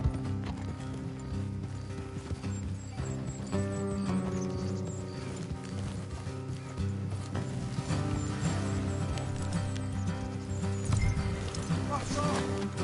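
Steady clip-clop of horse hooves in a PS4 video game plods on in a rhythmic pattern beneath layered game music and ambient sound, with voices faintly mixed in.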